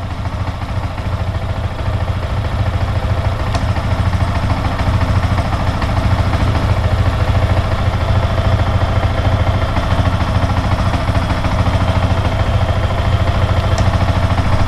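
A motorcycle engine with an abnormal noise runs steadily and close by, a continuous mid-low drone with faint clatter throughout, unchanged across the whole stretch.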